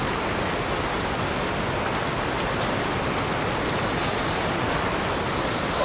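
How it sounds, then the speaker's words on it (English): A constant, even rush of pouring liquid in the Fontaine area of a video game, a dense broadband hiss like flowing water that holds steady without pauses or voices. "Sound of pouring liquid is always relaxing."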